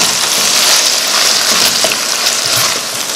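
Pastelle filling with ketchup, green seasoning, minced ingredients, oregano, cumin and salt sizzles loudly in a hot pan on high heat, a steady dense frying hiss as it is stirred, close and continuous with no voices.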